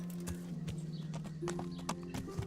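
Steady clip-clop of horse hooves trotting along in Kingdom Come: Deliverance, with tonal game music droning underneath; footfalls are close and rhythmic throughout.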